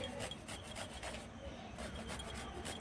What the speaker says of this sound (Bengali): এখানে আমি একটু আদা ঘষে দিচ্ছি